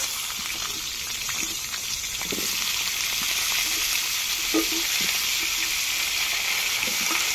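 Vegetables for khichuri fry in a pan with a steady, bright sizzle, while soft, occasional stirring clinks and scrapes punctuate the hiss.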